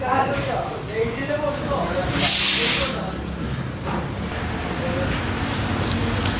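A pressure cooker cooking lentils lets out a loud, sharp hiss of steam for about a second, heard over steady background noise and indistinct voices.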